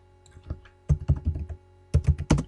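Computer keyboard typing in quick clustered bursts of sharp clicks, close up with brief gaps between groups of keystrokes and no talking.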